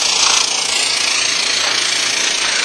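A Sun Valley Ski Tools Portawelder runs during ski base repair, a loud steady mechanical whir with a faint pulsing texture throughout, close by and alone.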